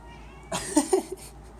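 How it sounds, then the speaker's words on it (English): A cat-like meow synthesized on a Yamaha DX7, once, a short, close, whiny call rising and falling in the middle of an otherwise quiet moment. "so we can get this cat to stop meowing"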